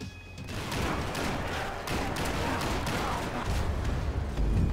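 Rapid gunfire from the video game Max Payne 3, with dense overlapping shots and bursts forming a loud, steady barrage that lasts the whole time.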